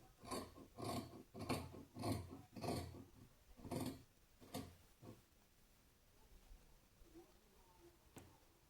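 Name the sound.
scissors cutting blouse fabric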